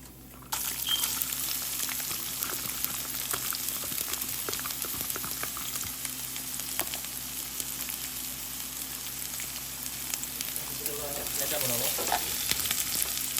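Onions frying in hot oil with mustard and cumin seeds in a pan, a constant close crackling sizzle with faint popping and stirring throughout, steady and loud without talk over it.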